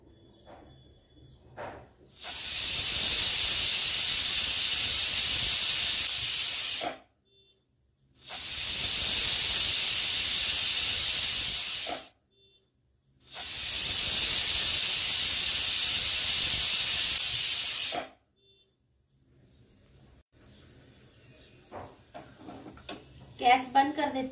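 Three long, loud hissing bursts of steam from a pressure cooker whistle over a medium flame while cooking bottle gourd soup, each lasting several seconds with short silent gaps between, followed by faint kitchen clatter.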